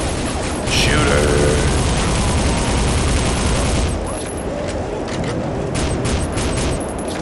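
Dense, loud gunfire and booming explosions in the war game Soldiers of Fortune, a continuous barrage that eases slightly midway, with a voice speaking over the battle.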